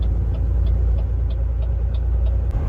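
A car drives slowly along a snowy, icy highway, its engine and tyre noise forming a steady close rumble with faint periodic ticking throughout.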